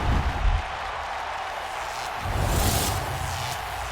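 A video game wrestling arena crowd in WWE 2K roars for Edge's entrance, a broad continuous wash of cheering that swells louder in the latter half.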